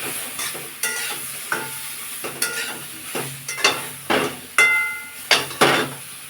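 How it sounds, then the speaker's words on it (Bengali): Turmeric-and-salt-rubbed eggplant pieces frying in oil give a soft background sizzle, punctuated by regular sharp clinks and scrapes of a spatula against the pan roughly every half second. "তেলের মধ্যে আমি বেগুনটা ভালো করে ভেজে নেব"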